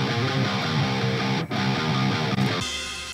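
Electric guitar played through a TS999 Tube Screamer emulation, amp simulation and cabinet impulse response chugs out a steady, distorted rhythm riff of repeated palm-muted notes, loud and alone, ending on a sustained chord.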